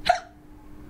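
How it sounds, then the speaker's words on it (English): A single sharp human hiccup, short and close, followed by quiet room tone. "I get the hiccups every single day."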